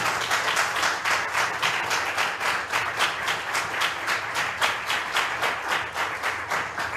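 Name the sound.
church congregation applause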